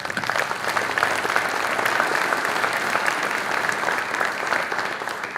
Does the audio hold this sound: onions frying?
no